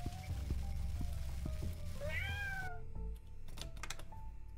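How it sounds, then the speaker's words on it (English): A cat meows once in a video game, a rising, bending call heard over a steady game backdrop, followed by a few soft clicks once the background drops away. "Kitty!"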